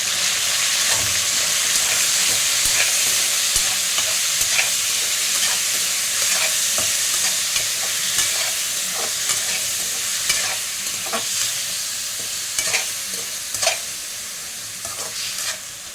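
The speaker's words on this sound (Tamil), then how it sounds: "வெங்காயம் நம்ம ஏற்கனவே வந்து போட்டு அதில் வதக்கிடுவோம்" Onions sauté in oil for a chicken curry, sizzling loudly and steadily while a spoon stirs and scrapes the pan at irregular intervals, with no talking.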